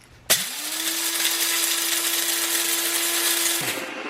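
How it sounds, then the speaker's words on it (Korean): A Hamilton Beach electric coffee grinder grinds beans in one steady, loud whirring burst that starts abruptly, holds an even pitch for about three seconds, then cuts off with no talk. "이 그라인더가 여태까지 써본 전동 그라인더 중에 베스트"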